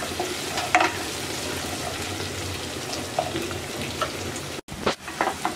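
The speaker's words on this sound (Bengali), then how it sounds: "এবার দিয়ে দিচ্ছি হাফ কাপ পেঁয়াজ কুচি, পেঁয়াজটা হালকা ভেজে নেব।" Chopped onion frying in a pan for a vegetarian bean and potato chorchori, with a steady crackling sizzle throughout and a few light stirring clicks, one brief cut near the end.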